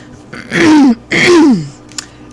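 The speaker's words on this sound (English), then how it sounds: "Excuse my clearing my throat." Two harsh, drawn-out throat clearings in quick succession, close and loud, followed by a soft click.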